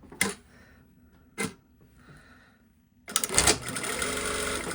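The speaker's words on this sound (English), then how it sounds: "I'm just going to sew it onto here with a" Sewing machine stitches a lining fabric pocket bag, two brief bursts followed by a steady, close, loud run of stitching with no talk.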